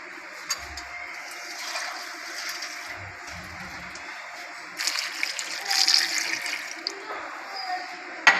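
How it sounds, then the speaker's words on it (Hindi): Water is poured into a beef karahi pot in a home kitchen, a soft continuous gushing and splashing that swells louder toward the end, with a little quiet talk beneath. "अब 2 गिलास पानी शामिल कर लेना है।"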